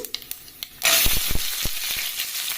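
Onion pieces drop into hot oil for a bottle gourd dish and set off a loud, steady sizzle, with a few sharp clinks and taps near the start and in the middle.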